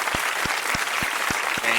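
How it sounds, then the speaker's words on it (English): Audience applause after a comedy talk-show interview, a steady dense wash of clapping that fills the moment at a moderate level, with faint low thumps recurring underneath. "Matt Cook, round of applause, everybody."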